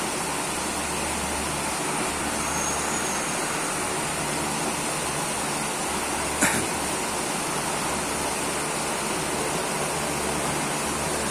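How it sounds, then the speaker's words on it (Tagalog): Water on a waste-oil burning stove, topped up for a second boil, churns in a steady rushing, hissing roar under a flat-bar ring, with one brief sharp knock partway through and no voices. "Ayan, nagsisimula na uling kumulo."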